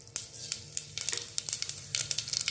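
Mustard seeds and cumin crackle and pop in hot oil while tempering bajra khichdi in a home kitchen, a steady close sizzle broken by frequent sharp spluttering bursts.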